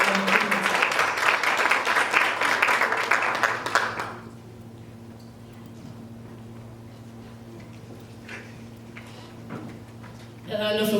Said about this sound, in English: can you please give a round of applause to Pamela Monemo?